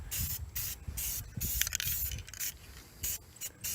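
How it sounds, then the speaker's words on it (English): Black paint hisses from a spray can onto automotive-grade black oxide bolts for a shuttle bus RV bumper storage rack, in short repeated bursts with brief pauses between them, close and fairly quiet. "spray those black too"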